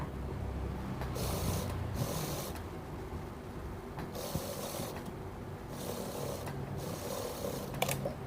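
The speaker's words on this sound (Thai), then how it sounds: "อันนี้ก็เป็นวงแขนนะคะเราก็จะเย็บซ้ำให้ลูกค้า" A sewing machine re-stitching the armhole of an old t-shirt, running in several short bursts of rapid stitching, about a second each, separated by quiet pauses, fairly faint and alone.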